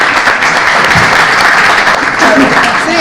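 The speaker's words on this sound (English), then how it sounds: "Let's have a round of applause, please" Loud, close applause from an audience at a chamber of commerce community event, continuous dense clapping for the speakers with faint voices underneath.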